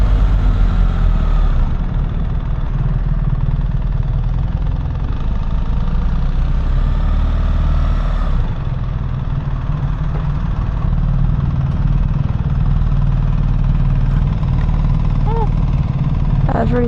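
A BMW R1300GS motorcycle engine idles steadily and close by, a low continuous rumble throughout, with brief bits of talk faintly over it.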